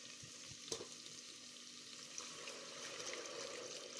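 Masala sizzles and fries quietly in a pan while being cooked for chicken mandi, a soft, continuous crackle with a couple of faint clinks and stirring sounds, close but low in level.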